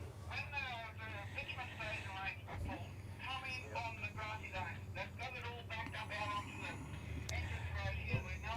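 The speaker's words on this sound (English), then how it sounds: "Just listening in the background, some of our two-way communication." Two-way radio chatter from a team's communication at a no-prep drag race, crackly voices murmuring steadily under a low engine rumble throughout, with a sharp louder burst at the very end.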